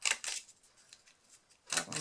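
Paper corners trimmed round with scissors for a patchwork mini album, two quick snipping bursts at the start and two more near the end, close and crisp with a quiet pause between.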